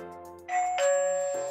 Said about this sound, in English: it does a single chime.